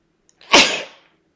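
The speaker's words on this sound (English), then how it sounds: "Once I start a sneezing jag," A single loud, close sneeze bursts out after a brief quiet intake, with a sharp onset that fades over about half a second, alone and with no talk.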